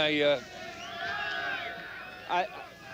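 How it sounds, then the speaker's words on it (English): Crowd cheering for the Delta Commando team, a broad continuous roar of many voices at moderate distance, swelling in places, with a voice and brief louder bursts near the start and end. "That cheering that you hear is for the Delta Commando team"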